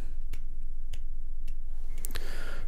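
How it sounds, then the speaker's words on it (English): Three slow, evenly spaced claps ring out sharply over a low background hum, each a distinct single hit about half a second apart, followed by a brief clatter near the end. "Let me slow clap for you"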